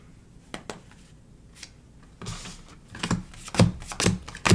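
Tarot cards being shuffled up close, a run of quick papery riffles and slaps that grow louder and denser toward the end.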